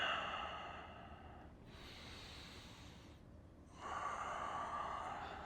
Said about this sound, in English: Some breathing,